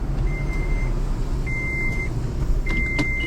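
A steady electronic warning tone beeps three times at even intervals, each a sustained single-pitch chime, over the low rumble of an idling car engine.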